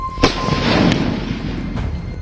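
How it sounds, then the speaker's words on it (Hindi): Sharp bangs of firecrackers burst amid a noisy outdoor crowd, one loud crack near the start and fainter pops following later. "इलाके में पटाखों का शोर है"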